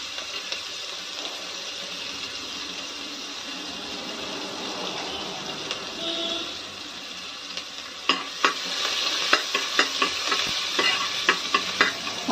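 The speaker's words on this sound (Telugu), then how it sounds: "ఇప్పుడు చిన్నగా తరుగు పెట్టుకున్న ఉల్లిపాయలు వేసుకోవాలి." Finely chopped onions frying in oil with fenugreek seeds and cumin give a continuous close sizzle, later joined by brisk spatula taps and scrapes against the pan.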